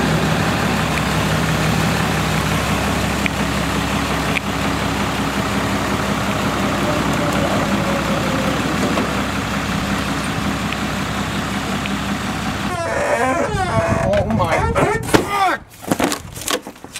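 A truck engine rumbles steadily as it reverses toward a trailer, a dense continuous drone for most of the stretch, then broken by scraping and creaking noises near the end, with no talking.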